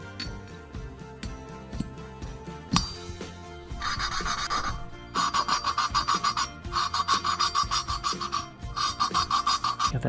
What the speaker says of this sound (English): now I'll go ahead and lap these valves in and install the valve springs